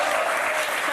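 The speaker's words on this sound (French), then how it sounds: "On vous applaudit très fort." A studio audience on a French word game show breaks into a brief, dense burst of applause, loud and even for about a second.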